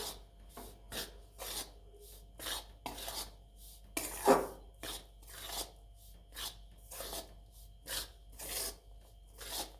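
Besan flour being roasted with ghee in a pan while it is stirred, with soft rhythmic scraping and rasping strokes close by. The strokes repeat every half second or so at low volume, with no other sounds.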